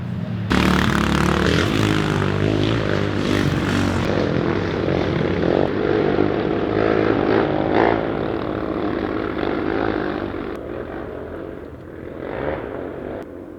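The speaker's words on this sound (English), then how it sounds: "Motorcycles." Motorcycles pass on a quiet dirt road in rural Colorado early in the morning. Their engines drone loudly with a steady harmonic hum at first, then gradually fade as they move away.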